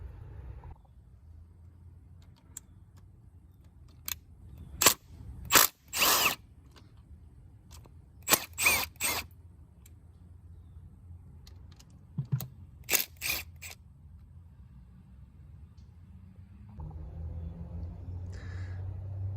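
A 12 mm wrench removes anodes from a Suzuki 300 outboard motor, making several short, sharp bursts of ratcheting clatter separated by quiet pauses over a low background rumble.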